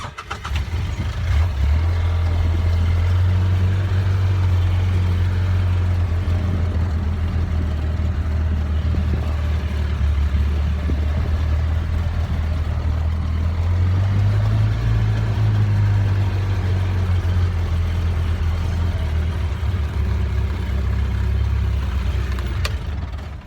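A vehicle engine drones steadily and close, rising briefly midway as it drives slowly around a calf judging show ground, loud and continuous with no talking.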